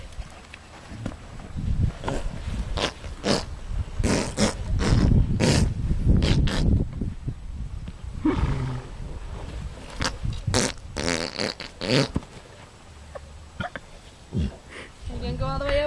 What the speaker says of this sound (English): this is actually what it sounds like when a horse farts